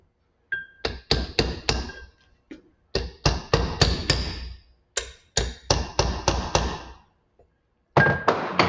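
Hammer blows driving a wheel bearing race into its seat during a wheel bearing replacement and repacking, several quick bursts of loud metallic strikes separated by short pauses, close and with no talking.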